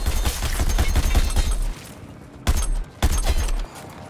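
Gunfire in the video game Suicide Squad: Kill the Justice League: a loud, rapid burst of automatic shots for under two seconds, then two shorter bursts after brief gaps, with no talking.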